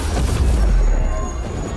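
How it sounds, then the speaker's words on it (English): Dark Squall detonating on sundered targets in Dragon Age: The Veilguard produces a deep rumbling boom, loud and sustained with heavy low-end weight, fading slightly toward the end. "followed by Rook's Dark Squall, which detonates sundered targets"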